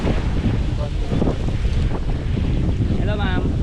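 Strong wind buffeting the microphone outdoors among coconut palms, a continuous loud roar with gusty swells throughout, with faint voices in the background.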